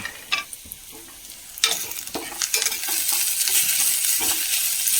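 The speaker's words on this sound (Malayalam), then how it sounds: "കപ്പലണ്ടി ആദ്യം ഒന്ന് കഴുകി, എന്നിട്ട് അതിൽ കുറച്ച് ഉപ്പ് തേച്ച് വെച്ച് ഒരു 5 മിനിറ്റ് കഴിഞ്ഞപ്പോൾ നമ്മൾ വറുക്കാനിട്ടു." Peanuts rubbed with salt frying in a pan for a home lunch, giving a steady crackling sizzle with scattered sharp pops and stirring clatter that grows denser and louder after the first seconds, with no talk.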